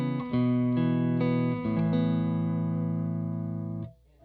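Clean electric guitar tone through pedalboard effects, a few sustained chords struck in sequence and left ringing with shimmering tails, close and full, then cut to silence at the end.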